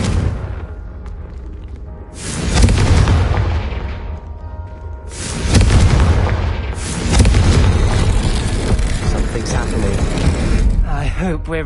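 Confringo blasting spell explosions in the Hogwarts Legacy video game, loud booming bursts around two and five seconds into the clip, followed by sustained rumbling effects and game sounds.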